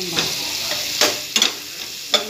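Sliced onions frying in a little oil in a home kitchen, a steady sizzle punctuated by several sharp stirring scrapes and clacks, close and moderately loud with no talking.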